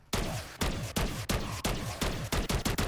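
Pack-a-Punched weapon firing in MW3 Zombies, a rapid series of about a dozen sharp, loud gunshots in quick rhythm, the final shots bunching closer together, with no talk.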